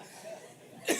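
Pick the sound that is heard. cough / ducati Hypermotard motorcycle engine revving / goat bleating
cough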